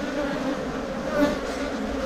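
Honeybees buzz around a hive frame as a close, continuous droning hum with small shifts in pitch and loudness.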